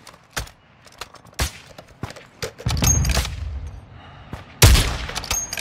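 An RPK fires in a video game: several sharp, loud single shots spaced across the stretch, then a dense rattling burst, and a final heavy blast, with quiet gaps between.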